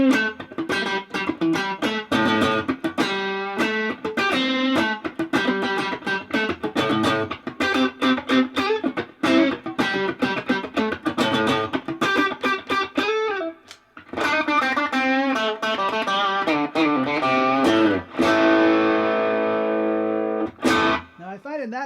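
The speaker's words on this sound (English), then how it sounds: "Now, if I engage the dirty window in a low gain setting," Electric guitar played through a Mayfly Dirty Window overdrive pedal at a low gain setting, giving a lightly gritty, mid-focused tone across strummed chords and picked notes, loud and continuous with a brief pause midway.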